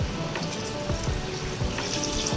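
Water pours steadily into a pot of chicken biryani, a continuous splashing rush heard close up with no voices.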